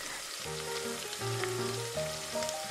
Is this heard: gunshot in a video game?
no